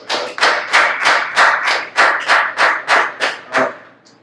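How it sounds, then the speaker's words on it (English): A group claps in unison at a celebratory gathering, about a dozen loud, evenly spaced claps in a steady rhythm that stop abruptly, with no talking. "Clap it up for that."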